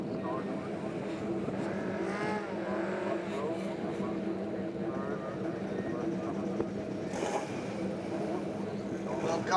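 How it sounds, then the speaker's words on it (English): Race cars at the 2019 Kirkistown circuit in Ireland roar off the starting line in a dense, continuous engine drone, loud and unbroken as the pack accelerates toward the first corner. "The rest of them, though, launch off the line down to the first corner."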